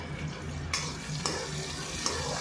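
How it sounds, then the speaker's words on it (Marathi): Onions sautéing over low heat in oil with mustard seeds and cumin in a kadhai, a continuous close sizzle broken by three sharp stirring clacks, with a low hum underneath. "कांदे टाकले की आपण ते छान कमी आचेवर परतून घेऊया"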